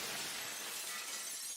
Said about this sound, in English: A huge boom came with shockwaves shattering every window.